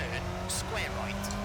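A Seat Cordoba rally car engine in EA WRC at Rally Japan drones steadily at high revs with brief gear-shift bursts, and voice-like sounds are faint in the mix.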